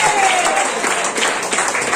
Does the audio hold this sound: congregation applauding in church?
yes